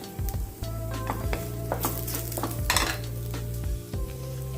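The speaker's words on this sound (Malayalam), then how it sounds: "ഇതിൻ്റെ കൂടെ തന്നെ കുറച്ച് കറിവേപ്പിലയും കൂടി ചേർത്ത് വറുക്കാം." Shallots and curry leaves fry in oil in a pan for an ulli theeyal, giving a steady close sizzle with occasional scraping stirs throughout.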